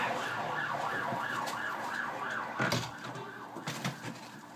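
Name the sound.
ambulance siren passing on main road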